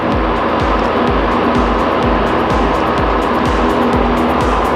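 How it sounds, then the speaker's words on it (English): A small single-engine airplane's engine roars at full throttle through a takeoff roll in Vermont, a loud, steady drone with a rhythmic pulsing throb, no talking over it. "Feet on the floor. Full throttle. Right rudder, stay on the center line. Airspeed alive."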